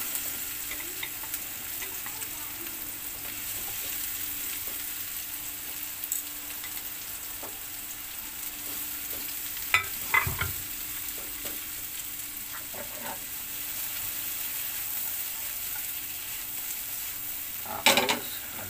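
Sliced bitter gourd sizzles steadily in hot oil in a pan, broken by a few sharp scrapes and clinks of a stirring utensil, close by and without talk.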